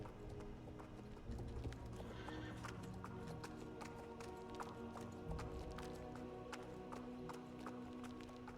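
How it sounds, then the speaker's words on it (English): Horse hooves clip-clopping in the Star Stable Online game, a quick rhythmic stream of close taps with a whinny, moderately loud over a faint steady background. "I like the clippity clops of the hooves."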